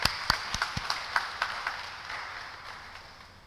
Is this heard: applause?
yes